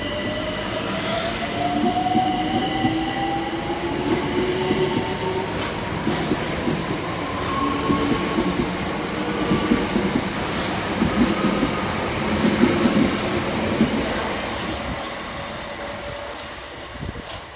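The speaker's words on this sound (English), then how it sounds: "Next out to depart is 376008 and 376031, working the 1836 Southeastern service from Hayes through to London Charing Cross." Southeastern Class 376 electric trains move through a station on the Hayes line, with a steady rolling rumble, rising and falling motor whine and occasional wheel squeal, fairly close and continuous, no talking.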